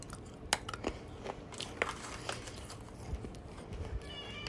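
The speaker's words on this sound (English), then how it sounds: "I'm chewing some spree right now" Someone chews Spree candy close up, giving quiet, irregular crunching and biting clicks at low volume.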